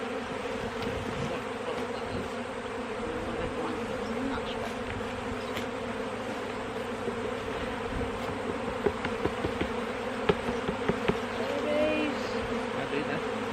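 Honeybees buzz steadily in a dense, continuous drone around an open beehive during a spring hive inspection, with occasional close knocks and scrapes of hive tools and brief faint voices.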